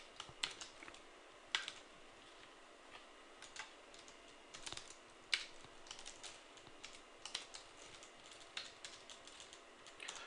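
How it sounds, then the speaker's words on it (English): Fast typing on a computer keyboard while R code is entered, a steady run of crisp key clicks with sharper spacebar and enter strikes, close and fairly quiet, with no talking. "Let me just go ahead and type all this out."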